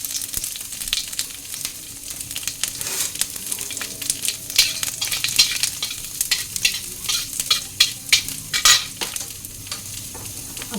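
Panch phoron spices frying in ghee in a wok with a bay leaf and a dried red chilli, giving a steady crackling sizzle broken by sharp pops and a few louder bursts, heard close with no one speaking.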